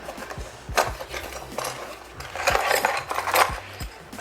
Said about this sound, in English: sounds like extra hardware